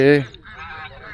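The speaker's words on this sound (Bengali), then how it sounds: "রাজহাঁস আছে আর কি যেন চাইনিজ হাঁস ফাঁস আছে" Geese honk at a wetland: one loud, nasal honk is followed by fainter, wavering calls, with no talking.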